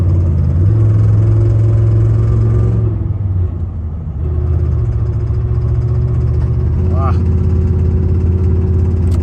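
A 1997 Ram 1500 pickup engine runs loud and close as the throttle is blipped on and off, a steady low rumble rising and easing, with a brief squeaky chirp partway through; pinging knock is not distinct.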